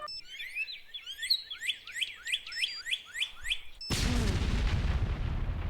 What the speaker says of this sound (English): I'm waking up to an explosion every time. That is my new alarm sound.